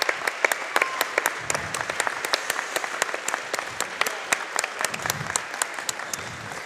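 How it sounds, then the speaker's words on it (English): Crowd applause at a high school varsity boys basketball game as a senior player fouls out, crisp claps rising from scattered to steady and continuing throughout, with faint gym crowd murmur beneath. "I think this guy deserves a good round of applause."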